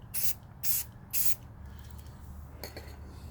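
Three short bursts of sealer spray hiss over a red glitter tumbler, followed by a quieter, brief spritz, close by with no talking.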